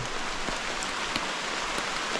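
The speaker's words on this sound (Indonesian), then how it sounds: "Melihat hujan guys. Hujan guys." Steady rain falls on a mountain, Gunung Meliat: an even, dense hiss of drops with a few sharper patters, no voices.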